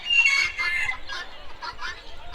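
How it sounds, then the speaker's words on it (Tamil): Caged chickens on a farm in Yercaud cluck and squawk continuously at close range, a busy overlapping chatter with no talking. "இந்த ரோ ஃபுல்லாகவே பார்த்தீங்கன்னா ஃபுல்லாகவே கோழி தான் இருக்குது."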